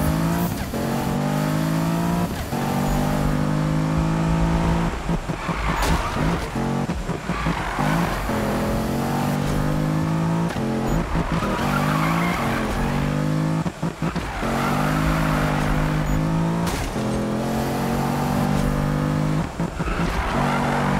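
Car revving and accelerating hard in Need for Speed on Xbox One, a loud, steady engine roar with rising and falling gear-shift sweeps, tire squeal and skids, continuous throughout with no talk.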